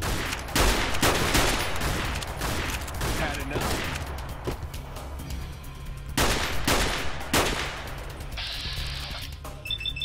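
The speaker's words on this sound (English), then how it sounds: "Actually, shoot you in the head now." Gunfire from the video game Fallout: New Vegas fills the scene, with loud, heavy shots and rapid bursts repeating almost without pause.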